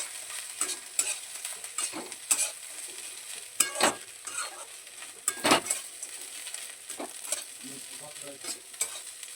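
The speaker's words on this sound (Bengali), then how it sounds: "দেখুন বন্ধুরা ধনে পাতাটা খুব ভালোভাবে মিশিয়ে নিয়েছি" Coriander leaves are stirred into crispy sweet corn in a pan, with a soft frying sizzle under sharp, irregular scrapes and clinks of a spoon against the pan, close and unaccompanied by voices.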